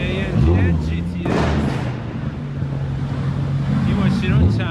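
A Mercedes-AMG GT S drives past at a London car meet, its engine surging and revving loudly nearby over crowd noise and someone talking.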